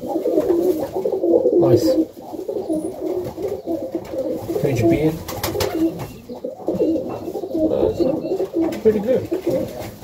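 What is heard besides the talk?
pigeons cooing on a cold Melbourne morning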